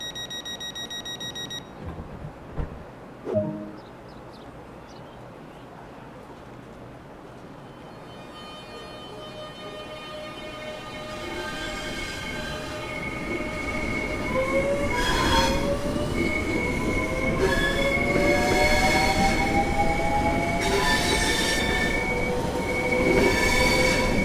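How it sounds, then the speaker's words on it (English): A train in the Train Sim World 2 game pulls away from Gravesend on the North Kent Line, its rumble and rushing air through open windows building steadily, with squealing wheel tones and rising motor whines layered over the growing roar. "you get a bit more noise of the air rushing past and you can hear the train a bit better"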